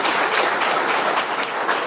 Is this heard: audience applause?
yes